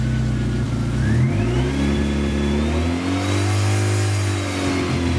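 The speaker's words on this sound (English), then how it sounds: "As I increase the engine speed" A Lotus Elan M100 engine revs up steadily from a 950 rpm idle to about 3000 rpm and holds there, a loud, close mechanical drone with rising pitch, alone without talk.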